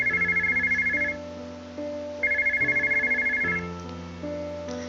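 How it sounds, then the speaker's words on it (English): A phone in a visual novel video game rings in two bursts of bright electronic trills. A looping synthesized melody plays steadily underneath, and nobody speaks. "suddenly I hear the phone ringing"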